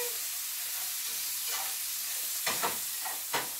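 Bacon sizzles steadily in a frying pan for a breakfast bacon mushroom omelet, a constant hiss broken by a few sharper crackling bursts near the end as strips hit the hot fat.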